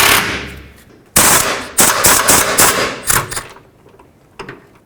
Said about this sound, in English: Let's remove the bolt. It's a 15mm.